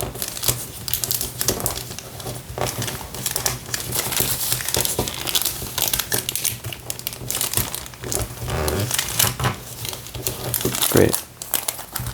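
Paper crinkling and rustling steadily as it is folded into an origami playing card, close to the microphone with a few sharper creases, while a person talks over it.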